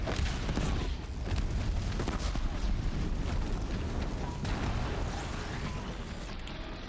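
An explosion bursts across a machine's belly in the video game Horizon Zero Dawn, a loud, dense, rumbling blast that fills the whole span and slowly eases toward the end.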